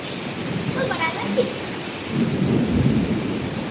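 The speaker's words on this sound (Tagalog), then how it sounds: "ang lakas ng kulog" Heavy rain hisses steadily while a deep thunder rumble swells and rolls for a couple of seconds, fairly loud, with faint voices underneath.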